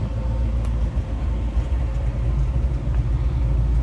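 Stock 350 Chevy V8 from an old truck idling in a 1977 Chevy Monte Carlo, a steady, loud low rumble with an even throbbing pulse that holds for the whole stretch.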